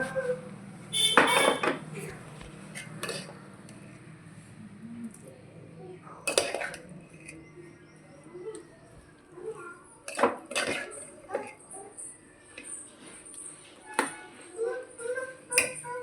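Telangana pulagam rice being served from a pot into a dish, with metal utensils clanking and scraping in several bursts, then a run of lighter clinks toward the end, and a voice talking in between.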